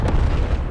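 A frag grenade detonating in a Call of Duty video game, one heavy low boom that rolls on briefly, loud and close with no talk.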